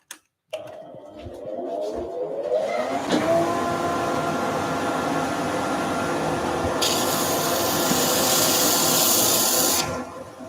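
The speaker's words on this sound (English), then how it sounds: "Dust extractor on." A dust extractor in a woodworking workshop switches on with a click, its whine rising as it spins up, then settles into a loud, steady rushing roar that cuts off near the end.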